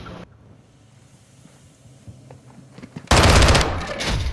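Shotgun blasts ring out in Call of Duty: Modern Warfare II, a sudden loud burst of rapid, close gunfire following quieter ambient rumble and a few faint clicks.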